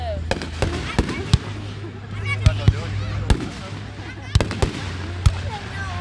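Fourth of July fireworks burst repeatedly at a family show, sharp cracks and booms at irregular intervals, some close and loud, with people talking underneath and a steady low hum throughout.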